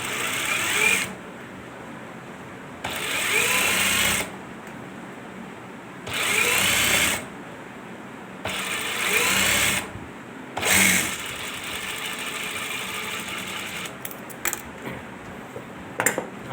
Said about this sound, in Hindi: इसके ऊपर आप किनारे की भी सिलाई लगा सकते हैं